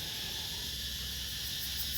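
Crickets chirp in a natural setting around a forest home, a steady, continuous high buzzing drone with nothing else over it.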